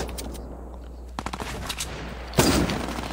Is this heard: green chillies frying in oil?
no